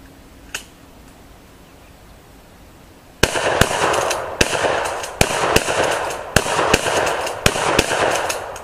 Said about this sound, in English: just commence firing when ready